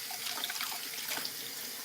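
Potatoes rinsed under a running kitchen faucet, a steady close hiss of flowing water spraying into a sink, with no talking.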